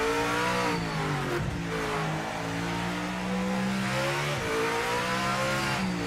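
A GT3 race car engine in Project Motor Racing on the Monza circuit revs hard through rising gear pulls, with quick shifts cutting the pitch before it climbs again, loud and close throughout.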